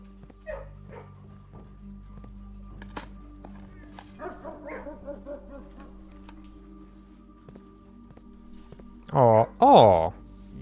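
A dog in the video game Blue Prince lets out two loud, close, whining bark-like yelps near the end, after quieter game sounds and someone talking.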